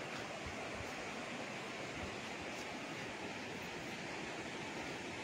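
A river at a farm lot in Majayjay, Laguna, heard near a shaky temporary bridge, gives a steady broadband rush of flowing water, constant and fairly faint, with no voices.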